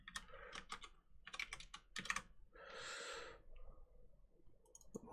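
Typing on a computer keyboard while setting up an Overwatch stream, quick bursts of close key clicks separated by short pauses, with a breathy sigh in the middle.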